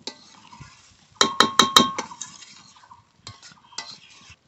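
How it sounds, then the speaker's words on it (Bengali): A lid goes onto a pot of spiced mutton with a little water: a quick run of four sharp metallic clinks, then a few softer rattles as it settles. "এবার ঢেকে দেব।"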